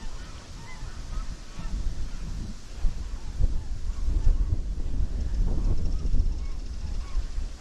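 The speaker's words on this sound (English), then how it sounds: "got a swan and looks like a goose face off over there. Had a little argument." A swan and a goose squabble outdoors on a windy walk, the goose giving repeated honking calls at moderate distance over gusty wind noise on the microphone.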